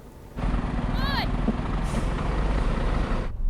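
Heavy 44-tonne trucks, a Mercedes Actros and a Scania R500, roar steadily in a loud sustained engine drone while accelerating, with a brief rising whistle, voices shouting over it.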